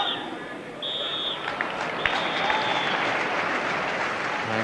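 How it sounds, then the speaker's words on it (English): A football crowd applauds steadily at an FA Cup match, Norwich City v Tottenham Hotspur, 1993, as players leave the pitch: a broad wash of clapping with occasional whistles, continuous throughout. "good applause for the players as they come off"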